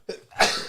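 A single close sneeze: a quick sharp intake of breath, then a forceful burst of air.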